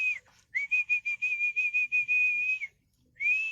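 A person whistles a steady high note, first broken into quick rhythmic pulses and then held long, stops briefly, and begins again; close and clear over quiet background.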